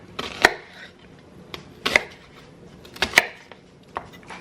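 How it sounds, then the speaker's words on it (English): A knife chops onion on a cutting board in a home kitchen: irregular, crisp cuts with a few louder strikes spaced about a second apart, close and fairly quiet, with no talk. "I never cut onions like this."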